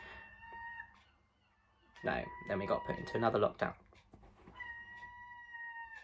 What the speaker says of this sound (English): What is that noise? Like, some goose really does not like my video.